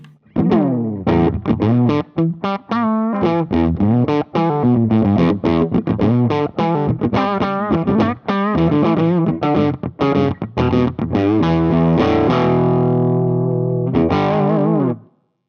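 A distorted electric guitar through a Marshall amp on input 2 plays a fast run of riffs and chords with a thick, darker overdriven tone, ending on a sustained ringing chord.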